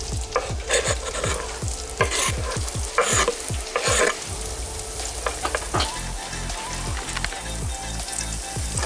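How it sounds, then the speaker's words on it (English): Onions frying in hot oil in a pan for chicken tikka masala, a continuous crackling sizzle with rhythmic spatula stirring strokes, close and fairly loud, no talking. "Now I'm adding some onions."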